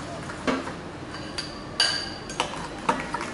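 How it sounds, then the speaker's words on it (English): Pound cake batter being mixed by hand with a utensil against a bowl, giving a few scattered clinks and scrapes over a quiet, soft background, with no talking. "Just mix everything together."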